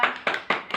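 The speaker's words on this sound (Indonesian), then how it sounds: "Beri aplaus buat Mbak Zora." Three or four sharp, evenly spaced hand claps in a classroom, loud and close, a brief burst of applause for a student with no voices over it.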